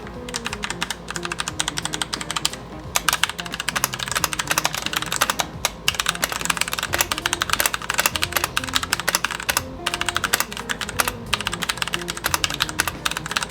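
Ajazz K870 mechanical keyboard being typed on, a quick continuous patter of crisp key clicks and taps, close and fairly loud, with brief pauses between bursts.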